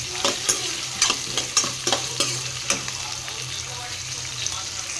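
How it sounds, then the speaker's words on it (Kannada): Onions sizzling in a hot pan over a high gas flame, punctuated by a series of sharp scraping stirs at an uneven rhythm, close up and fairly loud. "ಗ್ಯಾಸ್ ಸ್ವಲ್ಪ ಜೋರು ಮಾಡಿಕೊಂಡು ಫ್ರೈ ಮಾಡ್ಕೊಳ್ಳೋಣ"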